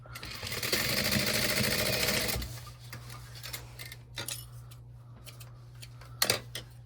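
Close by, a sewing machine runs steadily for about two seconds stitching a quarter inch seam on a crossbody bag, then stops, leaving quiet handling clicks and rustles.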